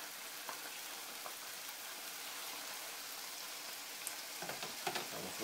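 Meat and onion fry on a griddle for a torta cubana with a steady, fairly quiet sizzle and a few small scraping clicks toward the end.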